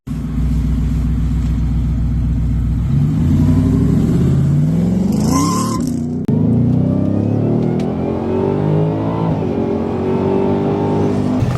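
A Ford Raptor R engine revs and accelerates loudly, with a deep rumbling exhaust drone that climbs in pitch and surges, briefly drops after a gear change, then pulls again close to the microphone.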